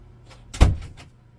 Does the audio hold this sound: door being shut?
yes